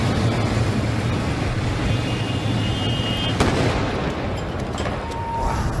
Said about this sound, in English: One police officer caught on fire from that explosion.